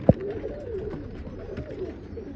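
A male and a female pigeon coo close by in a loft, with low, rolling, throaty calls that repeat softly. A sharp click comes at the very start.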